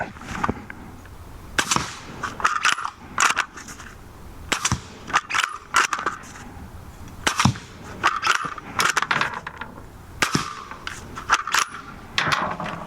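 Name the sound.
suppressed 300 Blackout bolt-action rifle shots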